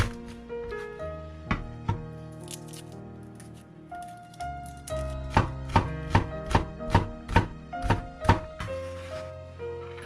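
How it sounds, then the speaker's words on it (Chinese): A knife minces flattened garlic cloves on a chopping board: a run of crisp, evenly spaced thunks, growing denser and faster toward the end, heard close over soft background music. "几粒大蒜按扁之后切成末"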